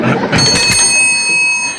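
A chairman's bell rung to open an international committee meeting in a comedy sketch, a bright ringing tone with sustained high overtones that rings on and slowly fades, heard alone without talk.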